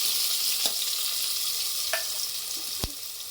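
Onions fry in oil in a pressure cooker, a steady close sizzle with a few brief scraping clinks of stirring.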